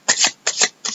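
Tarot cards sliding and riffling as they are shuffled by hand, three quick close swishes in a row, crisp and loud with no voices.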